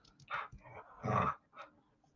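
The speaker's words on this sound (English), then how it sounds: "Nobody wants to know that you're barking" A dog indoors gives a few short, close barks mixed with low growls, coming in quick bursts with short pauses between them.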